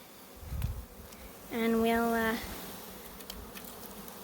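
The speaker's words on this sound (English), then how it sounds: "We're gonna scoop the bees into this nuke box." Honeybees from a swarm buzz in a steady, fairly close drone that swells loudly for under a second mid-clip, with brief speech at the start.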